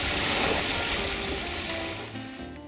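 A sailboat moves through cold coastal water off British Columbia, giving a loud, steady wash of waves and rushing water with wind noise and a low hum underneath.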